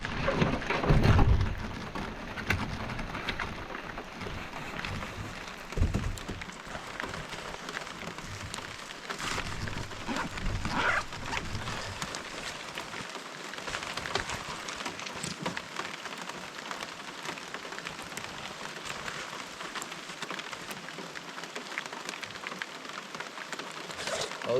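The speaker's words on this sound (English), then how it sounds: "Starting to rain quite a bit" Heavy rain pours steadily onto a paddler's portage in the wilderness, a dense, even hiss with a few louder thuds early on, continuing alone with no voices.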